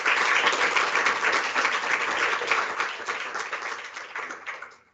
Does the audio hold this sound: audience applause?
yes